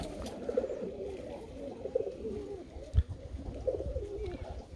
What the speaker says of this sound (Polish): Sroki krakowskie młode.